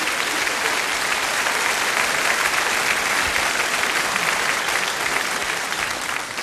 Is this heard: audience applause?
yes